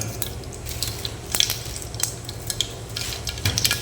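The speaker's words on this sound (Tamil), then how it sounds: "எண்ணெய் ஒரு அஞ்சு எம்எல் ஊற்றிங்க அதில் வந்து கடுகு போட்டாச்சு" Steady crackling sizzle of mustard seeds frying in hot oil for sambar, with a few sharp pops and light stirring clinks close by, no talking.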